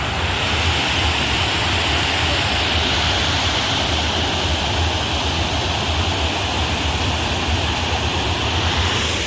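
Steady rushing roar of water flowing over rocks in hilly terrain, a continuous loud broadband wash with no breaks, close and constant throughout.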